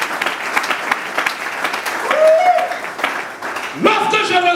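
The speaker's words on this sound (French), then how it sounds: "Acclame pour le Seigneur" A church congregation applauds for the Lord, with sustained clapping that swells and dips under a preacher's voice speaking over it.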